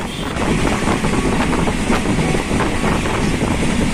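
A passenger train runs steadily along the track, heard from on board as a continuous rumble with rattling and a wind-like rush, loud and even, with no voices.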